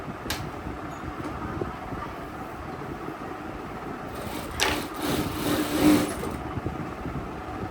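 A sewing machine stitching in a steady, continuous mechanical whir, with a slightly louder burst midway as the machine keeps running.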